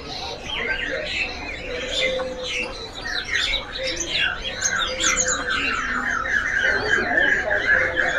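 Cucak jenggot songbirds chirp and squawk in a bird shop kiosk, with busy overlapping calls at moderate distance and voices mixed in throughout.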